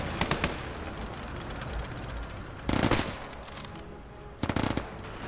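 Bursts of rapid gunfire from anti-tank guns in a counter-attack during a video game battle, three short loud volleys separated by a lower rumbling battlefield din, with no talk.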